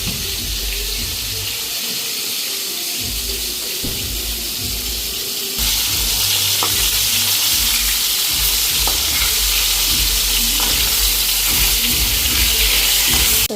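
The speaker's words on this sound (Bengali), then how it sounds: "এদিকে মাছগুলি ভাজা হয়ে গেল। মাছগুলি পুরা ভাজলাম না, হালকা হালকা ভাজলাম।" Fish pieces fry lightly in a hot pan at home with a loud, continuous hiss and crackle that grows brighter and stronger partway through, close up.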